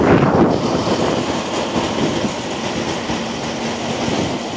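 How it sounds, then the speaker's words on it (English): Strong, steady wind roars at an Arizona truck stop. The rumbling broadband noise buffets the mic for the whole stretch, with no one talking over it. "You hear that wind blowing?"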